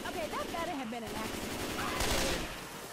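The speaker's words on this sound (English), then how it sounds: "Superior burst fire." Rapid automatic gunfire rattles in the video game Left 4 Dead 2, a dense burst of shots mixed with game sounds and a voice talking over it.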